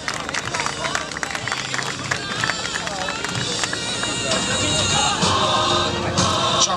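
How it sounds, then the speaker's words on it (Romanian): An audience applauds at an award ceremony as winners are announced, steady clapping and crowd noise filling the room while an announcer talks over it. "Aplauze!"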